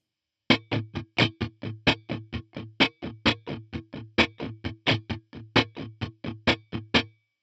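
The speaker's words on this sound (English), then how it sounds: "strumming just a little bit harder to make those accents pop" Funk guitar strumming 16th notes at a slow tempo, muted choppy strokes in a steady run with certain strokes hit harder so accents pop out above the rest, close and alone without talking.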